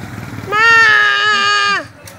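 A small child imitates a goat bleat with one long, sustained, wavering tonal cry lasting over a second, close and loud, with a brief murmur before it.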